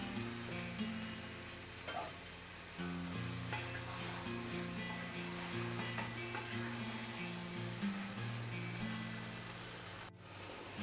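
Chicken biryani masala with chili and coriander powder sautés in an open pan, giving a continuous dense sizzle and crackle with occasional stirring scrapes, close and steady throughout.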